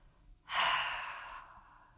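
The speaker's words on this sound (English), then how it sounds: "Nice deep breaths." A single deep breath out during hand and forearm stretching, a soft close exhale lasting about a second after a brief pause.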